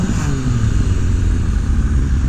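A 2000 Kawasaki ZRX1100 motorcycle sits near a shop in freezing cold, its exhaust sending out a loud, deep, steady idle rumble close by.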